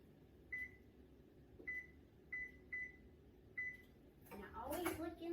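Beeps from an oven being set to preheat to 400 degrees, a series of short single tones spaced irregularly, followed by a louder burst of household noise at the end, over a low background hum.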